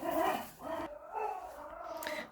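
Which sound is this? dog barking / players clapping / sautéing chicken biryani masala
dog barking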